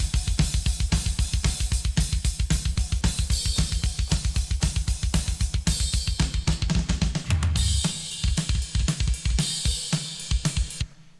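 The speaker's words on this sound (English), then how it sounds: "Here are the drums. It sounds like this in solo." A solo thrash metal drum kit plays a steady, driving beat with punchy kick and snare hits and bright cymbals, shifting to a sparser pattern near the end.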